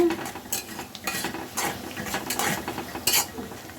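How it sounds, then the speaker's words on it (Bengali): Onions browning in a pan on a stove for a rohu fish roe bhuna are stirred with a utensil, giving steady sizzling broken by repeated scraping strokes against the pan, close and fairly loud with no talking. "চুলায় আমি পেঁয়াজ দিয়ে পেঁয়াজটাকে একটু লাল লাল করে নিলাম"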